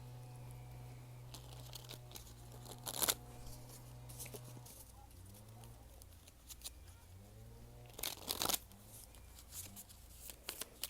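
Tarot cards being shuffled, soft papery riffles and crisp flutters coming in bursts over a quiet background with a low steady hum, close but faint, with no talk.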